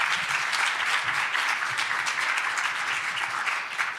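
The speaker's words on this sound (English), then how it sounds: "let's clap for these guys first" Seminar audience applause for the Finnish Ecosystem Observatory presenters, a dense and steady wash of many hands clapping at once, even in loudness from start to finish.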